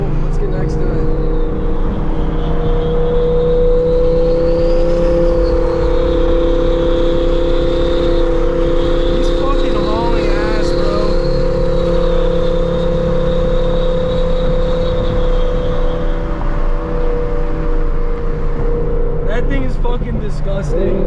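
A Lamborghini engine roars loudly and steadily alongside the listener's car during a drive, a sustained droning growl with wind noise and voices talking over it.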